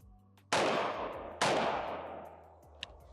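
A Sig MCX Ranch rifle fires two loud, close shots about a second apart, each a sharp crack followed by a long fading outdoor echo, with a small click near the end.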